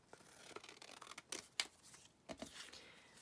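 Scissors cut through folded ledger paper on a desk, a few quiet crisp snips and paper rustles spaced over a few seconds, close but faint.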